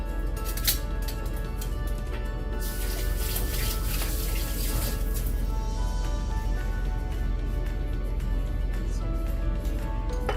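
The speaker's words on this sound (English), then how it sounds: "I'm just gonna rinse my hands here quickly." Hands are rinsed under a running kitchen tap during biryani preparation, a steady splashing stream of water with brief louder gushes, close and continuous with no speech.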